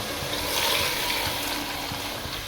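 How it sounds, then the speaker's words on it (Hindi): Water pours steadily into a pot of fried spices and peas, making a continuous close gushing splash that holds at an even level throughout. "अब हमने इसमें पानी लगा देना है।"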